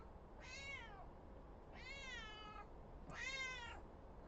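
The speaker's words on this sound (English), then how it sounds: "Oh, there's a cat." A cat meows three times in a row, each call drawn out and fairly close, with a pause between calls over a low room hum.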